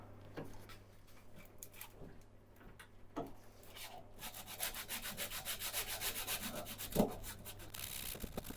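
A turned wooden piece is sanded by hand, a quiet rubbing scrape that starts in sparse short strokes, then becomes a steady run of rapid back-and-forth strokes, with an occasional light knock.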